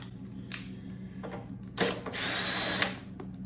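A Ryobi power tool whirs and ratchets while removing the starter from a Kohler OHV Command small engine, with short bursts at first and then a longer steady run, close and fairly loud.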